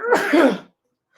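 A single close, loud sneeze, a sharp noisy burst lasting about half a second before abrupt silence.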